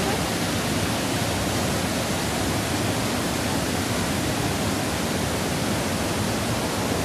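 A flowing river or stream rushes in a dense, unbroken roar that stays loud and constant throughout, with no voices.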